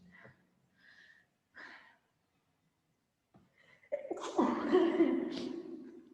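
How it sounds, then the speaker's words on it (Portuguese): A single loud, close sneeze bursts out after a few faint breaths and a quiet pause, trailing into a breathy release. "Peraí que eu vou espirrar."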